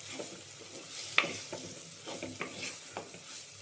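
Curry leaves crackle in hot oil with toasted spice powders, a close sizzle broken by sharp pops and spatters, with occasional stirring against the pan.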